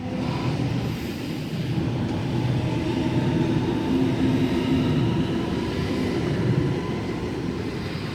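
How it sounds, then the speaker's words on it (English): A Sydney Waratah Series 1 electric train, set A5, departs Mount Druitt platform 4 on a Penrith service, a loud steady rumble and whine of motors and wheels rolling close by, with no talking. "we have Waratah Series 1 Set A5 now departing platform number 4 for a Penrith service"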